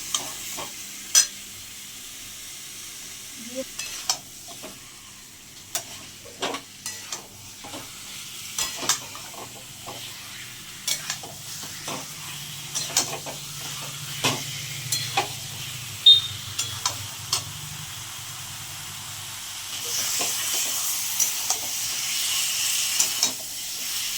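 Chicken pieces frying in a cooked-down spice masala for a light chicken curry, a steady close sizzle broken by frequent scraping stirs, with the hiss swelling louder toward the end; no talking.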